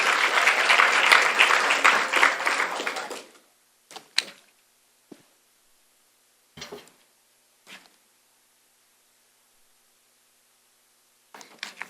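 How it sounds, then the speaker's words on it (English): About three seconds of applause at a student pinning ceremony fade out abruptly, followed by near silence broken by a few isolated knocks and clicks. "let's please give them a round of applause"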